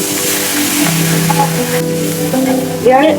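Chili paste sizzles and fries in oil in a pan for a Bengali rohu fish curry, giving a steady, dense hiss with a few soft stirring sounds, close by and without talk.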